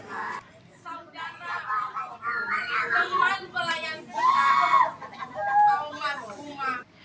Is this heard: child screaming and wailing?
yes